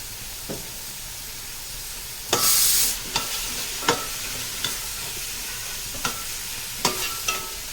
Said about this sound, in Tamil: இது எல்லாம் நல்லா கிண்டி விடணும்.